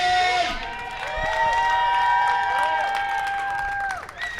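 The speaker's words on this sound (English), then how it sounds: "Give him a round of applause for Brian." Crowd at an outdoor courthouse protest cheering and whooping, with sustained whistles and shouts over a few seconds of scattered clapping; loud and close, fading near the end.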